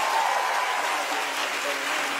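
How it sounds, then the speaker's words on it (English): Steady audience applause for a joke about thick macaroni and cheese, a dense continuous wash of many hands clapping in a large room, moderately loud and sustained throughout. "Somebody clap. For thick macaroni and cheese."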